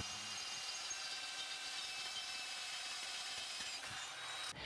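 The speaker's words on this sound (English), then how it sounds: "We're going to take a small drill bit and drill a pilot hole" A power drill whirs steadily for several seconds, drilling a pilot hole in a Ford Super Duty 7.3 Powerstroke exhaust pipe, a continuous high-pitched grinding whine up close, then cuts off at the end.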